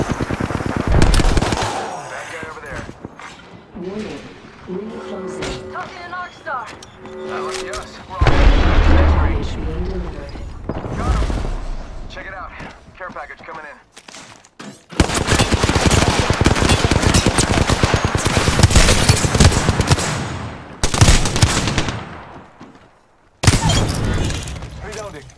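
Rapid automatic gunfire and explosions from the Apex Legends video game, loud bursts in long stretches with brief pauses between them, with no talk.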